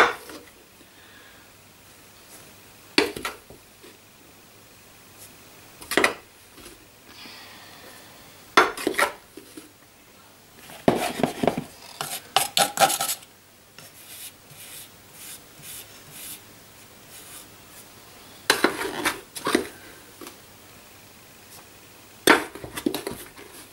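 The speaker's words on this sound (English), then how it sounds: "And now I'm going to measure up the flour." Kitchen utensils and bowls clink and scrape in short, scattered bursts while flour is measured for Norwegian julebrød. The clatter is close, with quiet gaps between the bursts and no speech.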